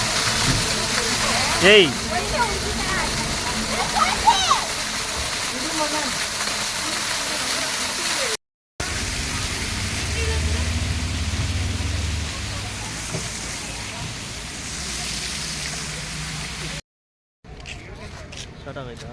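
Netravati river water flows and rushes steadily at close range, a continuous broadband wash, while people talk and call out over it.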